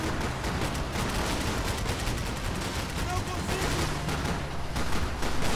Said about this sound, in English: I'll take care of the people that are shooting at us.